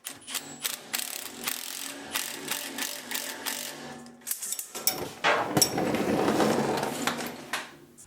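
Ratchet wrench tightening suspension alignment bolts on a car, giving rapid clicking pawl ratchets in quick bursts, then a heavier clanking and scraping stretch of metal tool handling near the microphone, moderately quiet, with no voices.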